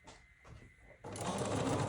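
A sewing machine runs while joining quilt pieces: short taps at first, then a steady, close, whirring stitch that continues to the end.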